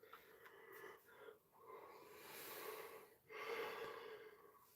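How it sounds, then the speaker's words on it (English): A person yawns close by, drawing in a long, breathy, airy sound in two or three swells with short pauses between them, quiet and with no talking. "You made me yawn."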